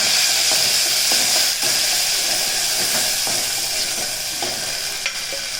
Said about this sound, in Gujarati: તેલ આવી ગયું એમાં ઉપલ મેથી છે ને નાખી દીધી છે